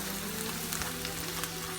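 Dense, steady sizzling of onion frying in butter, close and constant, with a low hum underneath.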